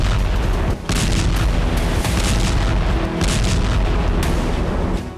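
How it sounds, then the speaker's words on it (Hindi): Bombs exploding in Lebanon, a loud, continuous roar of heavy booms and rumbling blasts with a brief dip near the start, dense and close with no pauses. "लेबनान में बम गिराए जा रहे हैं"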